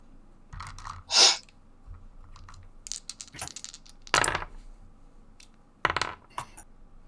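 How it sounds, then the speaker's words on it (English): Dice clatter across a table during a tabletop role-playing session, three separate sharp rattling bursts spaced a few seconds apart, with quiet clicks and rustles between. "I don't like the number of dice I'm hearing."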